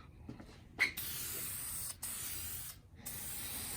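Short bursts from a spray paint can hiss steadily as a 1990 Mustang GT's used side skirts are painted, broken by brief gaps between passes, fairly close and with no talking.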